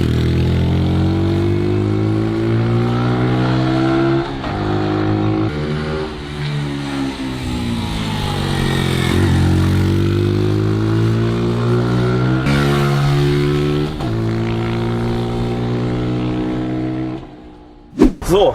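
A 2021 Brixton 125 motorcycle with a Euro5 engine is ridden while its dark-toned single engine revs up and down through the gears in a steady stream of rising and falling pitch, close and prominent, ending with a sharp knock.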